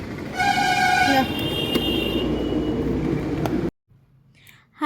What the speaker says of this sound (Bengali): হাই রোডের মধ্যে রয়েছি এখন আর যা জোরে গাড়ি চলছে